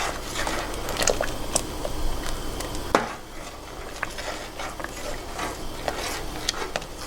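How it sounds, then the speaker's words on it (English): Spoon stirring beaten egg into a pot of Vietnamese asparagus crab soup, giving soft scraping and light clinks against the pot over a steady simmer, with a sharper knock near the middle. "Make sure you're mixing the soup at the same time."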